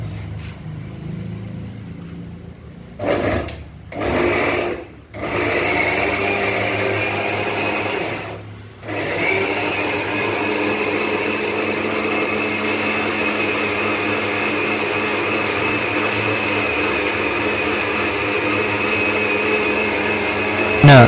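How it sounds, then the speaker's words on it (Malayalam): A mixer grinder blends ingredients for a meat curry into a paste in a small jar, starting with a few short pulses and then running as a loud, steady whir. "ഇറച്ചിക്കറി വെക്കുന്നതിനായിട്ട് അതെല്ലാം കൂടി ചെറിയ ജാറിലിട്ട് നമുക്കൊന്ന് അടിച്ചെടുക്കാം"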